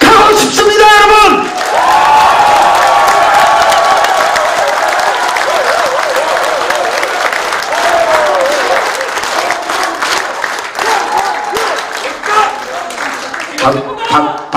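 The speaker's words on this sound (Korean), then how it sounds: "박수 소리가 시원찮아서" A crowd at a campaign office opening ceremony claps and cheers with scattered whoops, loud and continuous, with voices shouting over it.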